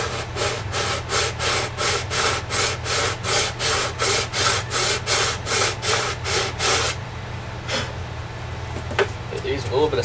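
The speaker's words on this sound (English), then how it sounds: "Hit these with a little bit of sandpaper." Rhythmic back-and-forth rasping of sandpaper on plastic F-14D Tomcat model parts, about a dozen quick even strokes close up, then stopping, leaving a steady low hum and a few scattered light scrapes.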